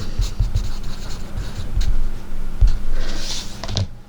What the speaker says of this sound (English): And I better write that down.